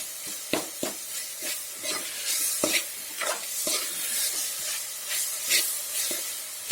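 Bombay rava dough for kadubu is stirred and fried in a pan: sharp scraping strokes of the spoon land every half second or so over a soft, continuous sizzle, close up with no talking.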